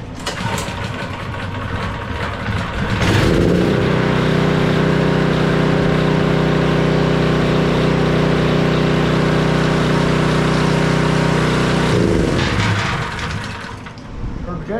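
A Husqvarna pressure washer's Briggs engine, once troubled by gas leaking into the crankcase, starts up and runs at a loud steady idle for about nine seconds before shutting off, with quieter handling noise before and after.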